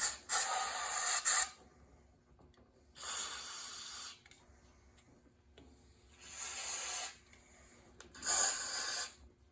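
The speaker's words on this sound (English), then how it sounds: "I use brake cleaner fluid, and you spray" Four separate hissing sprays from an aerosol can of brake cleaner onto a Cummins engine crankshaft, each lasting about a second, with quiet pauses between them.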